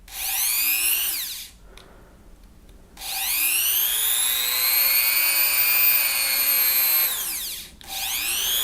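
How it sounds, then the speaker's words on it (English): Goxawee rotary tool grinder whining at high pitch, spinning up and down through several speed steps with brief drops to near quiet between runs, close and loud. "I got the little grinder plugged in. Let's go ahead and see if it works here."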